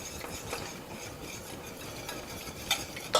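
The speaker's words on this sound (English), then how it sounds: "you're going to stir that in slowly. And stirring briskly until it's incorporated." Broth whisked briskly into a pan for Salisbury meatball gravy, a quiet, continuous scraping and swishing with a couple of louder knocks near the end.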